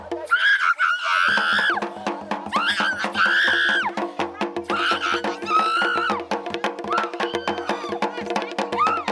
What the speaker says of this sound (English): The spirit screams to be let go.